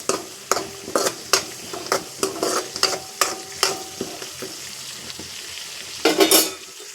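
Lemon rice cooking in a pan with lemon water, a spoon scraping and stirring in steady repeated strokes over a soft simmering sizzle, close by, ending in a louder scrape.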